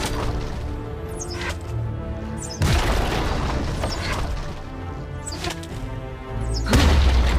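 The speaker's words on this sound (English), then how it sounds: "Destroy the enemy turret." An enemy turret in League of Legends: Wild Rift is destroyed with heavy booming impacts and crashing thuds, three or four strong hits spread across the stretch with whooshing game effects between them.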